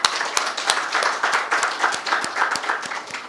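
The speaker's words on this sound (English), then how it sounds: "I request all of you to welcome with a loud claps" Audience applause welcoming a keynote speaker at a Lean Six Sigma conference: dense, steady clapping from a room full of people, sustained and fairly loud throughout.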